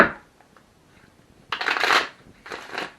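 Tarot cards riffle-shuffled by hand in two quick bursts after a near-silent pause, crisp and close, with no talking.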